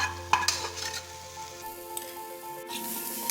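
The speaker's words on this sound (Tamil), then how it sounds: "இப்போ ராஜ்மாவை அதோட ஒன்றா கலந்துக்கலாங்க." A spoon stirs rajma sundal with turmeric and spices in a pan, soft scraping and light clinks over a faint low sizzle, close and fairly quiet.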